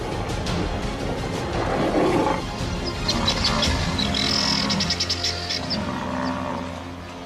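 Lions roar and growl while charging and attacking a one-ton dagger boy buffalo bull in the wild, with a dense, rough struggle of low roars and scuffling, plus bird chirps in the background.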